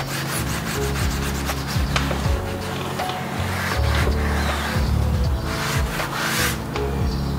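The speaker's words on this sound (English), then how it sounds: "I rub it enough so I can slightly get it back off" Steady rubbing of a car care product by hand onto the paintwork of a Subaru WRX STI during a wash, close and continuous with a low engine-like hum underneath and no speech.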